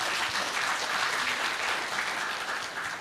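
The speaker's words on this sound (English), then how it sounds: "Please giving the best applause to all speakers" Steady, dense applause from a lecture audience fills the room, clapping for the speakers at the close of a discussion session.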